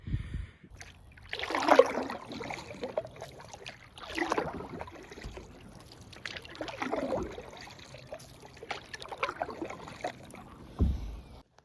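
Kayak paddle strokes on water on a hot day, a few rhythmic swishing splashes spaced a couple of seconds apart, fairly close, with no talking.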